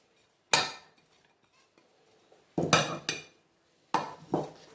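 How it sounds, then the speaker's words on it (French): Onions tipped into oil in a metal cooking pot for Moroccan harira soup, heard as three separate bursts of clattering, scraping metal contact, loud and close, with quiet pauses between them and no talking. "On rajoute les oignons."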